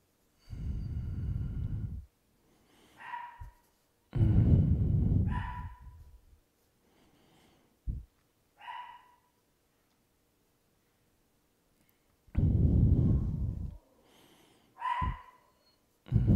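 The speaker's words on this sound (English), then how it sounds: "That's my dog." An unhappy dog gives several low, breathy woofs and snorts in short bursts, spaced apart with quiet gaps between them, fairly close by.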